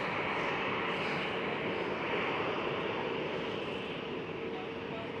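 A JetBlue Airbus A321neo pushing back at Amsterdam Schiphol, its engines producing a steady, dense roar throughout, with a voice talking faintly underneath.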